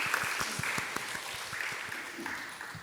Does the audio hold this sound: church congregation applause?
yes